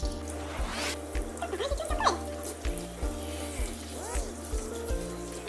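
Water running from a tap while a French bulldog puppy is rinsed in its bath, a steady splashing flow with a low hum beneath and faint voices.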